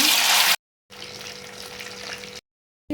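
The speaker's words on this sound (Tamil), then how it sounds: "எண்ணெய் சூடாகிடுச்சு, நம்ம பொரிச்சு எடுத்துடலாம்." Chicken Manchurian pieces deep frying in hot oil give a steady broadband sizzle, loud at first, then cutting out and returning more softly for a couple of seconds.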